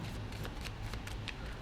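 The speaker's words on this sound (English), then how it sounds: "I'm going to shuffle the cards." A deck of Monopoly cards shuffled by hand during a magic audition, a close, quiet run of quick papery riffles and flutters with no talking.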